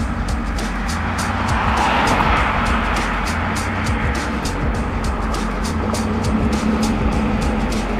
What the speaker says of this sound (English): I'm seeing a few more cars are coming.